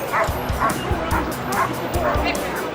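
Police dog units barking repeatedly at a street disturbance where officers hold back a crowd, the sharp barks and yips coming in a steady rhythm over background crowd murmur and chatter.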